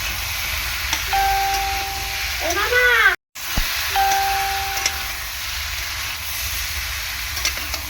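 Pointed gourd (potol) frying in a pan with chili and cumin gives off a steady close sizzle, with electronic chime-like tones sounding over it and a brief cutout midway.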